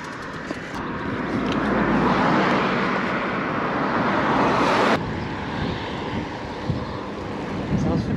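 Steady headwind buffeting a cyclist's microphone on the road, a broad roar that continues throughout, easing slightly partway through.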